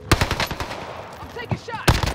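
Rapid bursts of automatic gunfire from a video game shooter crackle close and loud. They pause briefly mid-clip and then resume, with a voice calling out between the shots.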